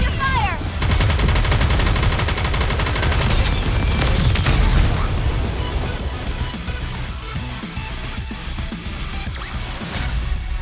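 Dense, continuous gunfire from a squad in the NIKKE battle game, rapid bursts layered with crashes and booms, loud and sustained throughout, easing slightly toward the end.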